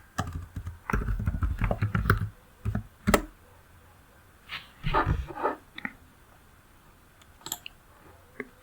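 Someone types a product name on a computer keyboard, producing bursts of quick, close clicking keystrokes separated by quiet pauses, with a few louder isolated taps.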